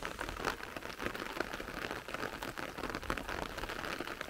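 Steady rain falls and patters on surfaces, a dense continuous hiss with scattered drop impacts throughout, no voices.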